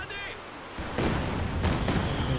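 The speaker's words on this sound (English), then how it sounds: "We've got now the Katusha barrage over here." A Katyusha rocket barrage in Company of Heroes 2 lands as a series of loud, booming, overlapping explosions, with a commentator talking over the battle.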